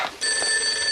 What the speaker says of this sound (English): That could be the phone.